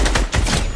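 Rapid gunshots in the video game Fortnite, a loud, close burst of several quick shots packed into under a second.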